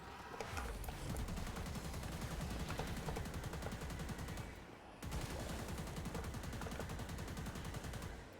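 Gunfire from a weapon in Warframe during a Mag build, firing rapid automatic shots in two long, dense bursts split by a short pause, loud and up close.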